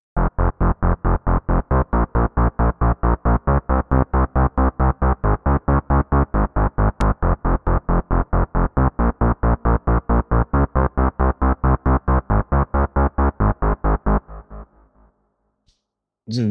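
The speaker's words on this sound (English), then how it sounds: "I decided to make a Synthwave bass" A synthwave bass line built on the Pigments 4 synth pulses in a fast, even run of punchy repeated notes for about fourteen seconds, loud and alone, then cuts off into brief quiet.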